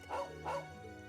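A dog barking in The Legend of Heroes: Trails of Cold Steel II video game, two quick close barks in a row over faint background music.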